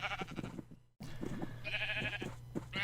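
Sheep bleat in the Minecraft video game, several wavering nasal calls in quick succession with a brief silent cut. They sound close and fairly loud.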